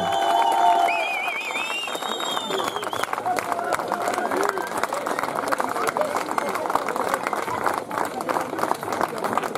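A crowd applauds at the podium of a French Cup cross-country mountain bike race in Marseille, with sustained clapping and cheering mixed with whistles and a loudspeaker announcer's voice over it.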